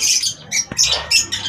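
Parrots squawking in short, harsh high-pitched bursts, five or six calls close by in quick succession with brief gaps between them.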